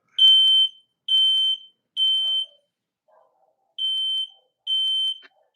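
Smoke alarm sounding a loud, high electronic beep five times: three evenly spaced beeps, a short pause, then two more. No one speaks.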